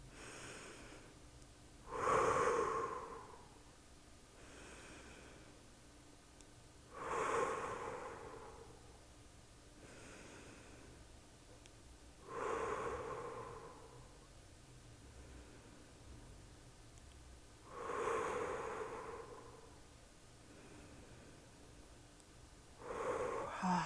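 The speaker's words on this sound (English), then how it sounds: "Let's do some hand breathing." Breathing exercise in a third-grade class: four slow, loud breaths roughly five seconds apart, each a broad airy rush, over a quiet room with no talking.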